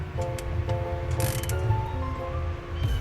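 A ratchet clicks steadily as the caliper bracket bolts are tightened on a Ford getting a Wilwood disc brake conversion, along with small metallic taps.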